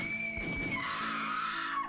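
A sustained high-pitched scream in an audio drama, a single long wavering cry lasting almost two seconds, loud and close, sliding downward in pitch near the end, with no talking over it.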